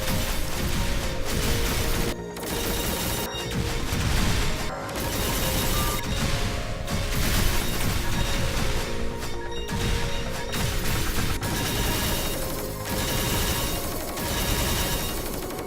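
Loud explosions and crashes in the video game Velocity 2X boom repeatedly over a dense, continuous roar of action.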